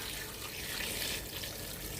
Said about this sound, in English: The next thing is to add your water.